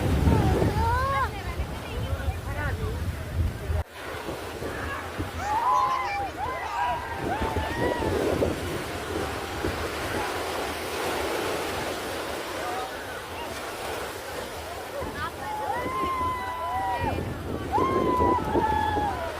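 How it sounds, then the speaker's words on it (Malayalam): Surf roars continuously on the rough sea at Chavakkad beach, with gusts of wind buffeting the microphone while people talk and call out nearby. "കടലിലെ തിര ഭയങ്കര ദേഷ്യത്തിലാണ് ഉള്ളത്."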